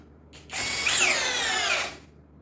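A cordless power drill spins up and bores a hole for about a second and a half, a loud steady whine with a rising pitch, heard alone.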